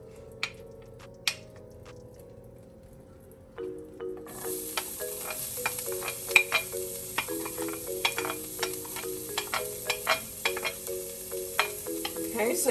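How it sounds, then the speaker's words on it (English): Onions and garlic sizzle steadily in a hot pot, with a bright hiss building after a quiet start and occasional stirring clinks and pops scattered throughout. "you're hearing it sizzle right now"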